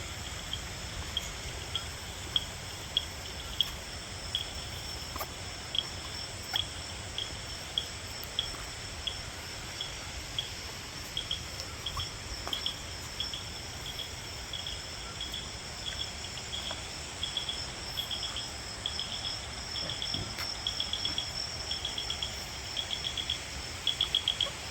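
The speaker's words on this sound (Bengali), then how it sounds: "বাইরে ঘুটঘুটে অন্ধকার আর ঝিঝি পোকার ডাক সব মিলিয়ে মিস্টিরিয়াস অ্যাটমসফিয়ার," Crickets chirp steadily through a dark night forest near an eco-tourism resort in Kalimpong, with rain around; a dense, continuous insect drone stays at an even level throughout, occasionally broken by faint clicks, with no voices.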